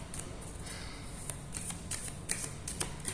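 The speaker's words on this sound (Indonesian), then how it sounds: "Di sini saya sambil kocok dulu ya kartunya" A deck of tarot cards is shuffled close up, giving quick, soft papery riffles and light flicking snaps in irregular bursts, fairly quiet with no talking.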